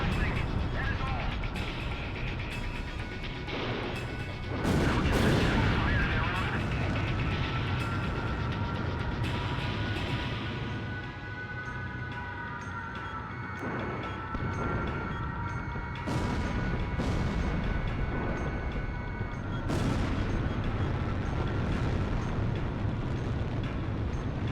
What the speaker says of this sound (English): That Sam fired a missile right into the fucking building.